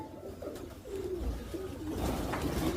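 Soft, repeated cooing of pigeons close by, low throaty calls rising and falling over a faint background hum.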